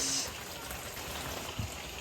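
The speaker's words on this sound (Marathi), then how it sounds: "पाऊस काय थांबायचं नाव नाही घेत" Steady rain falls during the monsoon in Konkan, a faint, even hiss of drops without a break, quiet and continuous, with no talk.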